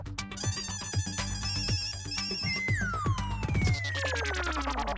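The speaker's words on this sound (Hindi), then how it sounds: "फोन तो अंदर ही बज रहा है लेकिन फोन नहीं उठा रहे" A phone rings inside a house, a repeating electronic ringtone melody playing steadily and fairly clearly with no talk over it.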